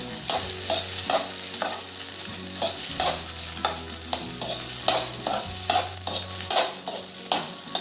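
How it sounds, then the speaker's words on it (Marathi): Sago pearls sautéed in ghee in a pan, with a steady background sizzle and repeated scraping, stirring strokes of a spoon at an irregular rhythm, close and fairly loud. "साबुदाणा छान परतवून घेऊ आपण तुपात."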